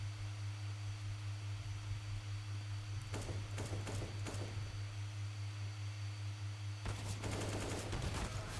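Gunfire sounds in a video game, heard as bursts of rapid shots in two separate clusters. Loud steady game noise and a hum continue underneath throughout.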